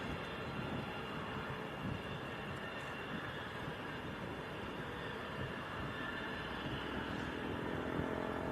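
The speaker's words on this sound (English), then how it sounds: "This Bizjet's making a load of noise." Business jet engines at Leeds Bradford Airport, a steady broad roaring whine heard from a distance, constant and moderately loud throughout, alone with no talk.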